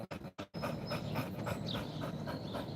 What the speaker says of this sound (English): he is panting.